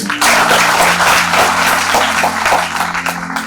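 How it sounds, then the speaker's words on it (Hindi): An audience at a college night event claps for task force members, a loud, steady burst of applause over a sustained musical drone that tapers slightly toward the end. "उनके जितने मेंबर्स यहाँ हैं उनको एक बार तालियां होनी चाहिए।"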